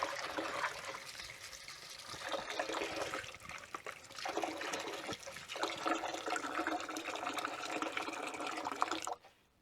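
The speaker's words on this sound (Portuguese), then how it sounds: "Pode colocar bastante água." Water pours in a steady, rushing stream over Muscadine grape seeds soaking in lime, filling and splashing close by, then cutting off abruptly at the end, with no talk.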